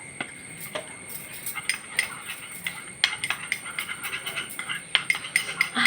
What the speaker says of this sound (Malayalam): ഇത് നാല് പേരെയും കൂടെ മിക്സ് ചെയ്ത് നിങ്ങളങ്ങോട്ട് എടുക്കട്ടോ